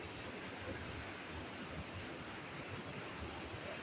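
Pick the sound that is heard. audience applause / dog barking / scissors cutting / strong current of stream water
strong current of stream water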